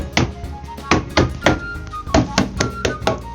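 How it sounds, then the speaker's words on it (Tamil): Repeated knocking on a house door in a Tamil cartoon story, about eight sharp, fairly loud knocks in an uneven rhythm, heard alone without talk. "அந்த வீட்டு கதவை தட்டுற சத்தம் கேட்டுக்கிட்டே இருந்தது"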